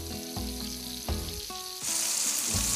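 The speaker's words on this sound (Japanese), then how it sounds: "旨味を逃がさないため小麦粉をつけて焼きます。" Flour-coated hamburg steak patties of mixed ground meat filled with cheese frying in a pan at an Italian restaurant in Mutsu. A steady close sizzle swells louder partway through, with no talking.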